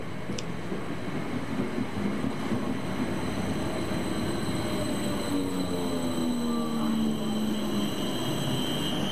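A railtour train hauled by a Class B1 Mayflower steam locomotive arrives at a station platform, heard as a steady, rumbling wash of rail noise with a faint tonal squeal running through it.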